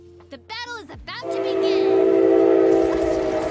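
A train horn blares briefly after a few quick voice bursts, then a loud, steady mechanical rumble of a passing train rolls on, in the video game Paladins.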